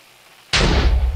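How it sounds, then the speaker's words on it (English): A TNT block detonating in the video game Minecraft: a single loud, sudden blast after near silence, with a booming low rumble that carries on as it fades. "He lit his TNT on fire. There it goes."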